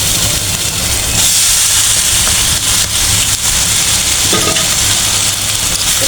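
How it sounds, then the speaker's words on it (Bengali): Boiled pasta is tossed and stirred in a hot pan, giving a steady, loud sizzle and hiss with scraping turns, continuous throughout and without talk. "ভালো করে উল্টায় পাল্টায় নেব"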